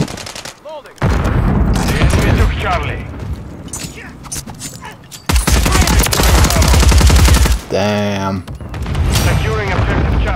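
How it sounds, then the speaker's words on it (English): Rapid explosive gunfire and launcher blasts from a Call of Duty Modern Warfare 3 multiplayer match, loud bursts and booms in dense runs with brief pauses and mechanical clicks. "Someone's found the rocket launchers. Grenade launchers."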